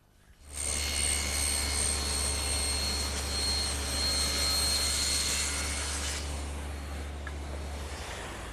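A table saw slices into wood to cut right against a rabbet while building a desk, a loud steady whine with a low hum that holds for about six seconds and then winds down.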